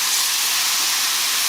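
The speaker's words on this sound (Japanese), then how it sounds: "鍋肌醤油。" Soy sauce hitting the edge of a hot pan, a loud steady sizzling hiss that fills the whole moment without pause.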